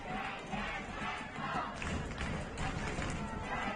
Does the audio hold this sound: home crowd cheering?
yes